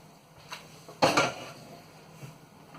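Freshly cooked aloo gobi being served from a cooking pot: a spoon clinks and scrapes against metal in a few close, sharp taps, the loudest in the middle, then quiet.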